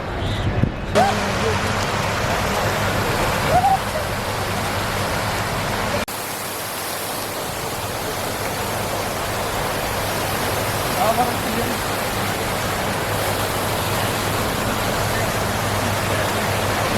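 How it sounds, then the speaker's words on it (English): Fountains running in a public square in Kurdistan, a steady broadband rush of falling water, like rain or a stream, filling the whole stretch with faint background voices mixed in. "they turned the fountains on"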